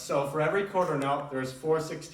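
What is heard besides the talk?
No everyday noise stands out behind the speech.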